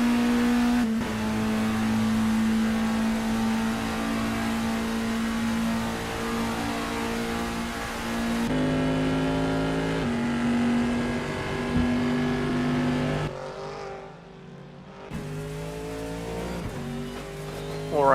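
Race cars, a Lamborghini among them, roar through a 24 Hours of Le Mans endurance race in a racing video game, steady loud engine drone with shifting pitch and gear changes, only brief dips.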